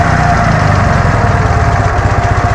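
A Dnepr MT11 motorcycle engine idles after its PZ30 carburetors are tuned, a loud, close, steady pulsing chug with no pauses.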